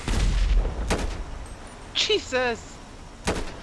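Explosion bursts in GTA San Andreas with sharp booming blasts near the start and end, broken by a voice exclaiming in between.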